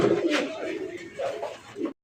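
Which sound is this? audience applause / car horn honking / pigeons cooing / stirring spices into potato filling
pigeons cooing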